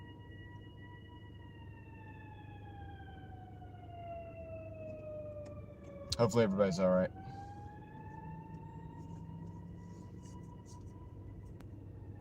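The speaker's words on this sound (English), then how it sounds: "It was an ambulance. That was the weird sounds." An ambulance siren wails with a slowly falling tone, a short burst of rapid yelping in the middle, while a person speaks briefly over it.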